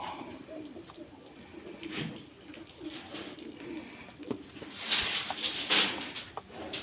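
Faint pigeon cooing murmurs through a quiet space, with a few sharper rustles and flutters toward the end.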